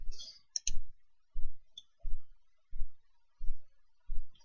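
Repeated computer mouse clicks while editing a product, about seven sharp, evenly spaced clicks roughly every half to three-quarters of a second, close and fairly loud in an otherwise quiet room.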